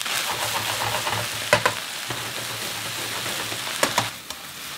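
Water spinach stems stir-fried in a hot wok after garlic and chili, a steady close sizzle with scraping spatula strokes and a couple of sharper clatters, no talk.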